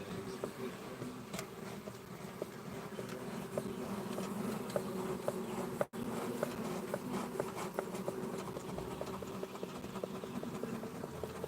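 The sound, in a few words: bees buzzing around a hive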